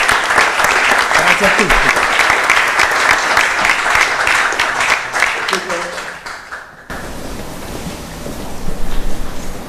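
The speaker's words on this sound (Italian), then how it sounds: "ancora un applauso a voi" Audience applause at a Lions Club scholarship award ceremony, loud and sustained dense clapping from a crowd for several seconds, then a cut to a quieter room where a speaker talks over a lighter patter of hands.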